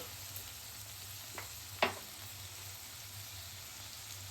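Onions and tomatoes sauté in a pan with a soft, steady sizzle, a faint frying hiss broken by a couple of brief stirring clinks.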